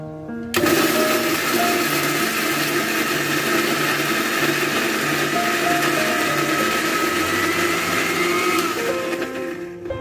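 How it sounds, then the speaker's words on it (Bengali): An electric blender grinds fried shrimp and other fried ingredients for a Bengali shrimp bharta, a steady loud motor whine running unbroken for nearly the whole stretch after a sudden start. "এবার আমি ঢাকনাটা দিয়ে কিছু সময় ব্লেন্ডার করে নিব"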